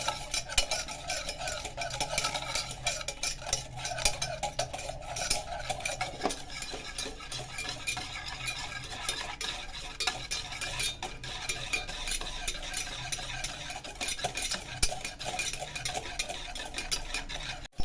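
A spoon stirring a cold coffee mixture in a glass, continuous rapid clinking and swishing with no pauses, close and moderately quiet.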